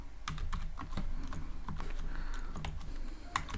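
Code is typed on a computer keyboard in quick irregular bursts of crisp, close key clicks with short pauses between them, and no talking.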